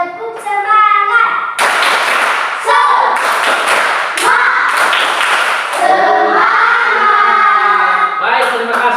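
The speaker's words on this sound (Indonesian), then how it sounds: "Tepuk semangat" Schoolchildren in an Indonesian classroom perform the tepuk semangat clapping routine, loud bursts of rhythmic group claps alternating with sung, chanted voices.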